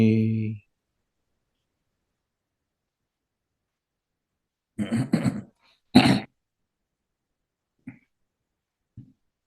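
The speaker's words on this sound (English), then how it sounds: "I should maybe warn you that I have a little bit of a cough" After a brief voiced tone, a few isolated coughs and throat sounds break the silence during a Buddhist monk's Dhamma talk, two stronger bursts followed by fainter ones.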